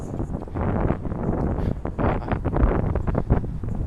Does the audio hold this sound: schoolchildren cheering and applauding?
no